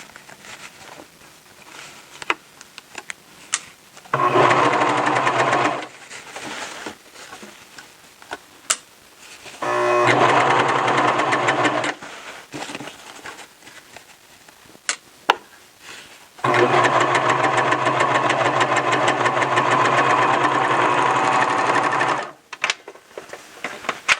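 A serger stitches a T-shirt sleeve in three sustained bursts of fast, even mechanical whirring, the longest near the end, separated by quiet pauses with light clicks and handling noises.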